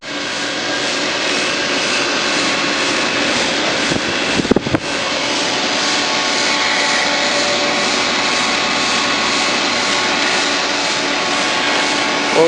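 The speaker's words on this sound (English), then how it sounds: "Well, we've got one compressor running." Air conditioning compressor at a house on Home Place Dr in McKinney, Texas, running with a steady, loud broadband hum and drone that carries through the whole stretch, broken only by a brief knock or rattle near the middle.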